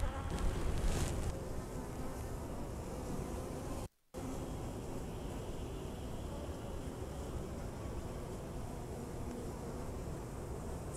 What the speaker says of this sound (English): a close-up of the hive so you can see them going in and out with their pollen legs